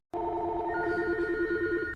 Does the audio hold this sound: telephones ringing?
yes